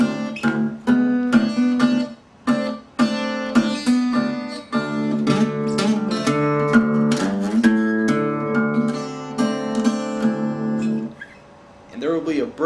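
Acoustic guitar fingerpicked in a repetitive, irregular Delta blues style, from a lesson. Plucked notes and bass thumps fall in uneven, halting phrases, close and clear, with a short pause before the last notes.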